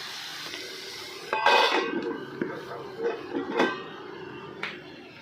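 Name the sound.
lid placed on a cooking pot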